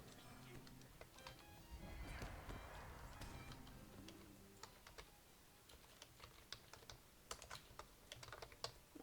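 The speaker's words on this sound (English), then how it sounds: "Oh, I've already started typing it." Quick, irregular taps on a computer keyboard, soft and close, with brief pauses between bursts and people talking faintly in the background.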